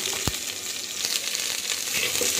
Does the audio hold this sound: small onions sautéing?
yes